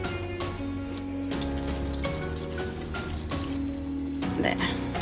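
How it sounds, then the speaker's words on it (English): Water poured from a watering can into trays holding young chili plants, watering from the bottom indoors on a windowsill; a steady close pour and trickle runs throughout alongside some handling noise. "I'm just going to water from the bottom."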